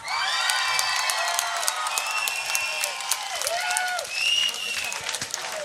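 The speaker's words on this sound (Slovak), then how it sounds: "Ak ešte raz potlesk pre Miška!" Rock show audience clapping, cheering and whooping, loud and close, with shouted voices and shrill whistles carrying over the applause.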